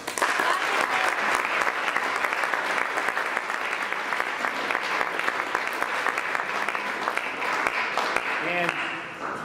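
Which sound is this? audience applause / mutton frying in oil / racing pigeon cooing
audience applause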